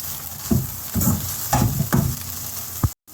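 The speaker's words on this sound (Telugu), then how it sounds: "వేగిపోయాయి కదా ఇప్పుడు రెండు స్పూన్లు అల్లం వెల్లుల్లి పేస్ట్ వేస్తున్నాను" Ginger garlic paste sizzles in hot oil with curry leaves for a chicken curry; a loud, steady fry carries a series of rhythmic low stirring strokes nearby, then cuts off briefly at the end.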